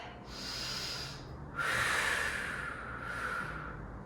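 A deep breath drawn and released during a hatha yoga class, a close, airy inhale followed by a longer hissing exhale, with no talking.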